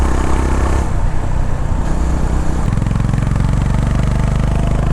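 Honda CB 350 RS motorcycle leaning through a corner, its engine thrumming continuously and loudly up close along with wind rush, the exhaust note shifting to a steadier low throb partway through.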